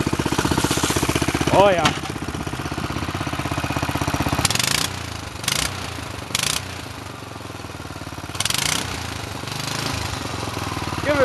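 A go-kart engine cold starting and running, a rough rapid putter that cuts out and restarts in bursts with revs rising and falling, close and loud, with a voice speaking briefly.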